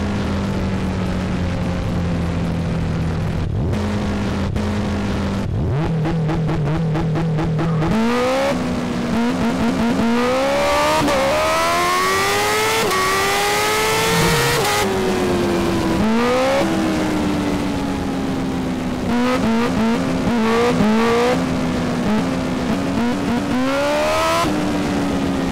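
A BMW S1000RR motorcycle engine revs hard and climbs through gears in GTA, loud and continuous with rising whine and quick shift drops throughout, no talk.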